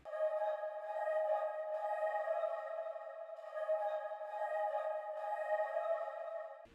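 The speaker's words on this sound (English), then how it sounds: "Then I've added Valhalla Uber modulation, and this just gives it like a chorus feel and some texture." Sustained synth tone with chorus-style modulation and delay, steady harmonic layers holding throughout with gentle swells, no voices.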